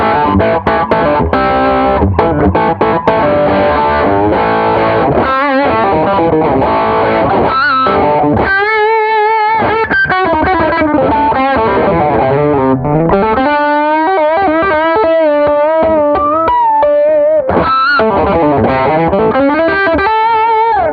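A tapped neck-pickup electric guitar plays through an AnalogMan Prince of Tone pedal on its distortion setting, with sustained driven chords and singing bent single notes, loud and close, and no voices.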